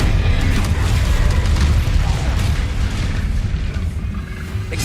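Incendio fire spell cast in the Hogwarts Legacy video game, a loud, sustained booming roar of flame that stays dense and rumbling for several seconds before easing slightly, with no talk over it.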